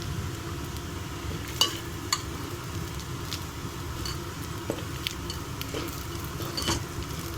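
Garlic rice being stirred and fried in a pan on a stove, a steady low sizzle with occasional sharp scrapes and clicks of a utensil against the pan, close and fairly quiet, with no talk.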